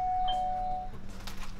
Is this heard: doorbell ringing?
yes